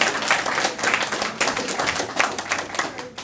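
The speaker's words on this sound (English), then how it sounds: "So for that, give them a round of applause." Audience at a debate competition breaks into steady applause, dense overlapping hand claps filling the room at close range for the whole stretch with no speech over it.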